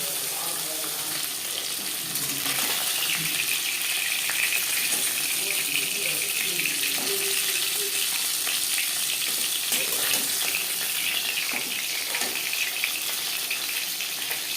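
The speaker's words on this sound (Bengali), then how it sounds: "একটা সাইড ভাজা হয়ে গেলে অপর সাইডটা উল্টে দেবে" Bata fish sizzles as it fries in a pan for a Bengali curry with jackfruit seeds, turned over to the other side. The frying is a continuous close hiss with occasional clinks, and faint speech sits low underneath.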